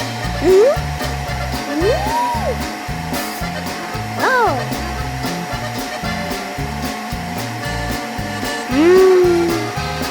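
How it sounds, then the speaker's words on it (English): A cartoon vacuum cleaner in a Peppa Pig animation whirs loudly and continuously, its drone pulsing slightly, while squeaky, sliding cartoon-like tones chirp over it now and then. "The vacuum moves around the room as if taking a walk."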